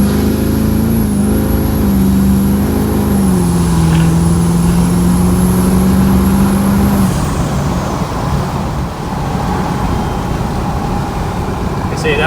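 An LB7 Duramax diesel truck pulls hard through a turn, its engine droning loud and close as it climbs and then eases off, with a voice talking over it.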